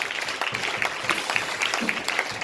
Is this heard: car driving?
no